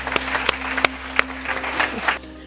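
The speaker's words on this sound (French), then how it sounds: "Mesdames, applaudissez-vous." Applause from a symposium audience responding to a call for the women present, scattered hand claps standing out over a steady hum, fairly close and moderately loud for a couple of seconds.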